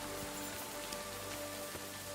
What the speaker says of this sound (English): Okay, the rain is still going.